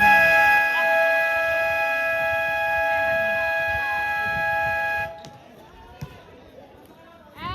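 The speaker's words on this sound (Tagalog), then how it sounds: "Buzzer." A long, loud sustained end-of-quarter buzzer blares over crowd noise and chatter at a basketball game for several seconds, then cuts off abruptly, leaving quieter voices and scattered sounds.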